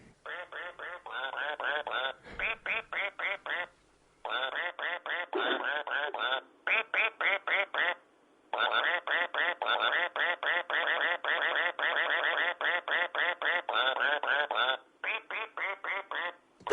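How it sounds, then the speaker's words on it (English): A squeaking toy duck gives long runs of rapid, high squeaks, each run broken by brief pauses. The squeaks are loud and close, with nothing else heard. "Now, I've got this duck that will squeak and that will do anything"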